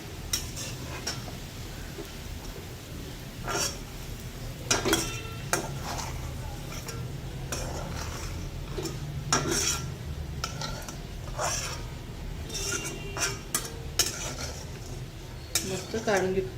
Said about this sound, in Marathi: आता छानपैकी आपण याला चांगलं तळून आणि डार्क ब्राऊन कलरचा करून घेऊया.